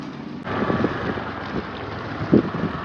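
A scooter ride carries heavy wind buffeting on the microphone, with a rumbling low roar and irregular gusts that stay close and loud under a faint engine hum.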